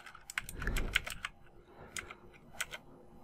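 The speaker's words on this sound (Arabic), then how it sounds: "تكبس انتر على الكيبورد" Typing on a computer keyboard while writing Kotlin code for an Android app: scattered quick keystrokes in short bursts with pauses, close but soft, over a low background rumble and no talking.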